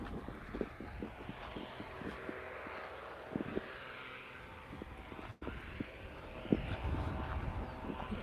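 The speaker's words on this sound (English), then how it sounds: "I thought that was a plane, but I think they're doing construction over there." Construction equipment working somewhere outdoors across the way, a steady low roar easily taken for a passing plane, with scattered clanks and thuds over wind.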